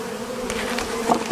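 Disturbed honey bees buzz in the air over an opened hive during an inspection, a continuous close hum with a few louder passes near the end.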